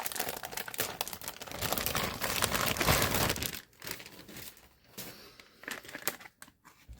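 Tape being peeled and torn from the cardboard box of a 1989 re-edition Teenage Mutant Ninja Turtles sewer lair playset: a dense, continuous crinkling rip that thins into scattered crackles and short tugs, close up and without voices.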